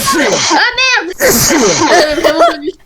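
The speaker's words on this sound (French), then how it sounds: "Oh non, Rachel a attrapé la rhume" A video game character sneezes with a cold, a loud nasal burst mixed in with high, tonal game voices and effects that continue around it.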